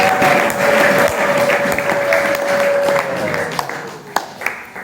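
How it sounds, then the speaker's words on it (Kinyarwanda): Applause and clapping from a church congregation during a pastor's testimony, a dense steady roar of hands that holds strong for about three seconds, then thins and fades with a few scattered claps near the end. "tumukorere amashyi menshi"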